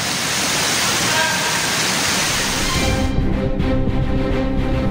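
Septic truck emptying human sewage into the Ciliwung river in Depok, West Java, a heavy steady gushing roar of falling liquid that shifts toward a lower rumbling, engine-like texture near the end, loud and close.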